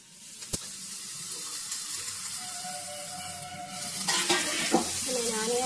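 Chopped onions fry in a pan until translucent, sizzling steadily while a spoon scrapes and stirs them, with a sharp clink early on and busier scraping toward the end; nearby and moderately quiet.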